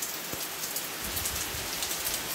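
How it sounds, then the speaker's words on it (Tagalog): Heavy rain pours down onto garden plants and rose bushes, a dense, continuous patter close by with no voices. "Ang lakas ng ulan."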